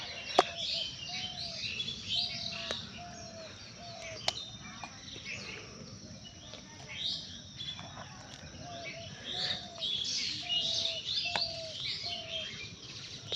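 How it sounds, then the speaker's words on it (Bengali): Several birds chirp and tweet in the morning in a village, around a repeating call, with scattered sharp notes over a quiet background. "সকালে পাখির কিচিরমিচির তো ভাবলাম আপনাদের সাথে শেয়ার করি"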